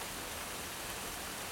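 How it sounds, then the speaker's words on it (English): Steady, hushing rain from a tropical storm, a soft, even wash of noise with no breaks, heard alone and fairly quiet. "It's been raining the last 2 days. Tropical storm coming through,"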